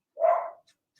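A single dog bark, close and sharp, one short loud bow-wow followed by faint trailing sounds in an otherwise quiet indoor setting.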